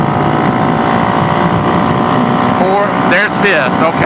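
A Suzuki DRZ 470 motorcycle fitted with an FCR carburetor pulls hard under throttle at speed, a steady loud engine drone mixed with wind rush, while the rider speaks briefly near the end.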